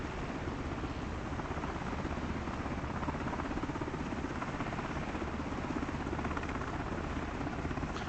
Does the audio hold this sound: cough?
no